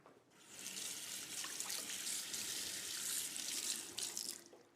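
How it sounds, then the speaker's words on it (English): A kitchen tap runs steadily while a knife is rinsed under the stream, a continuous close splashing hiss with small shifts as the blade moves through the water, no voices. "I'm just going to wash my knife."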